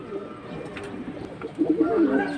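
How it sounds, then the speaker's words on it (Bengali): High-flying pigeons cooing at close range, with several soft throaty coos and a louder burst of cooing near the end, over faint background noise. "আমার বাসার কবুতর বাসার কবুতর"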